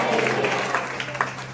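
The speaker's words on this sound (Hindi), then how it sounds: "ताली बजाओ और आमीन बोलो।" A church congregation at a sermon claps in a brief, dense wash of applause, with a voice faintly audible underneath.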